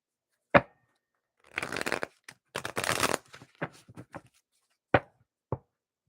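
A deck of tarot cards is shuffled by hand in close, crisp bursts of riffling and slapping, with a few sharp taps as the cards are squared on a table.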